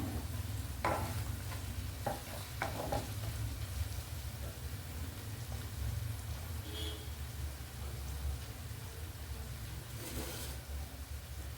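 Sliced onions sautéing in a pan, a soft steady sizzle under a low rumbling hum, with a few scattered stirring clinks and scrapes, fairly quiet and close.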